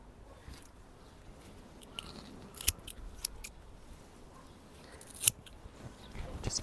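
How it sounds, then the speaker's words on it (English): Wet parts of a Musa basjoo banana plant being trimmed off with scissors outdoors. Several sharp, isolated snips come at uneven intervals over faint background noise. "Just cut off the wet parts."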